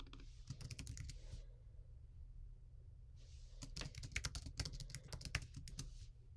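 Quiet, rapid bursts of typing on a computer keyboard, a run of clicking keystrokes, a short pause, then another quicker flurry of keys.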